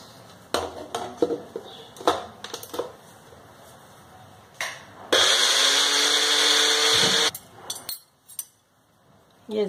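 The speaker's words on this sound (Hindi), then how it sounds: "अब इसे हम ब्लेंडर जार में चला लेते हैं।" A blender roars steadily for about two seconds grinding mint and coriander, between clinks and clatters of a jar and utensils, then stops abruptly.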